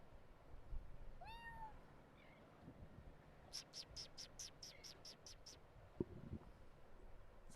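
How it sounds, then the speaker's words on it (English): A Siamese cat wearing a collar gives a short rising meow, then a quick series of chirpy cries follows over quiet outdoor background noise, near and fairly soft. "Oh look, here's a cat."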